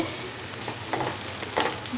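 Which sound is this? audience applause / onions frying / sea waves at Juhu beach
onions frying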